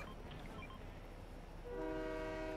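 A train in the Fortnite video game rolls closer, a low rumble building until a bright horn-like tone sounds near the end, fairly faint overall.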